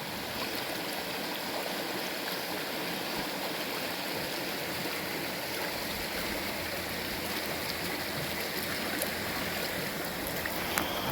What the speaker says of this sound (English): I'm sat down by the river at the moment